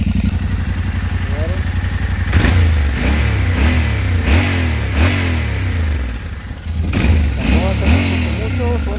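Yamaha Tenere 700 motorcycle with stock exhaust revving near the microphone, a steady idle broken by a series of quick throttle blips that rise and fall, with a louder burst of revs toward the end.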